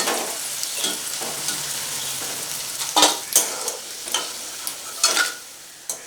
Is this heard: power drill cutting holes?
no